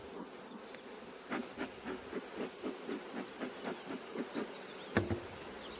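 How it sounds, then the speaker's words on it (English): A low steady buzzing of many honey bees on a hive super during rapeseed honey harvest hums throughout, with a rhythmic series of soft scraping or puffing sounds repeating over it. "there's a good amount of bees"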